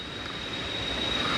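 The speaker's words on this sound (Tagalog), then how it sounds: "Parang narinig ko na yung lagaslas ng tubig ah" Rushing water from a stream somewhere below a trail in Laguna or Quezon, a steady broadband wash heard from a distance, continuous and fairly loud, with a faint high whine over it and no voices.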